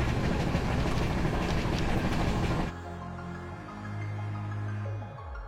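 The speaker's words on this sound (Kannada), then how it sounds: "175 ಕಿಲೋಮೀಟರ್ ಈ ಟ್ರೈನ್ ನಾನ್ ಸ್ಟಾಪ್." A locomotive-hauled passenger train on the Bengaluru to Hyderabad route gives a loud, close rumbling roar with rattling wheels for the first half. The sound then drops abruptly to a quieter section in which music plays.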